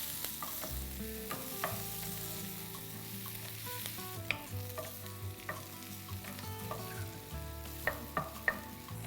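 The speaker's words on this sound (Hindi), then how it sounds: "प्याज को हल्का गुलाबी रंग करना है, इसे ज़्यादा कच्चा ही रखना है, बहुत ज़्यादा नहीं पकाना।" Chopped onions fry in oil in a pan while cooking egg tawa pulao, a steady close sizzle with scattered clicks and scrapes of stirring throughout, no voices.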